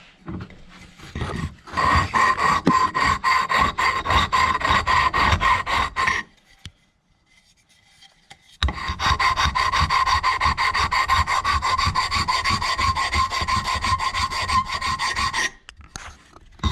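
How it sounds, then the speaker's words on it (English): Parts for a homemade spray paint shaker are sanded in two long bursts of steady, close, raspy scraping, with a brief quiet pause between them. "So what we're going to do is sand those down a little bit, sand everything up"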